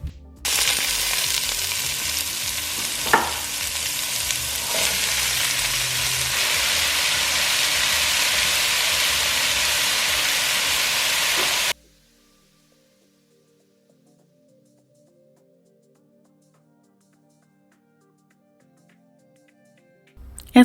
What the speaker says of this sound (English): then I'll go ahead and start sauteing all of my vegetables